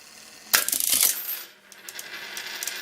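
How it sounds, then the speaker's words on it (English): Coins pour out of the jackpot tube of an AC Multi-Bell slot machine in a loud, dense metallic clatter lasting about a second, then thin out into scattered faint clinks and rattles. "we'll dump out all the coins out of the jackpot tube."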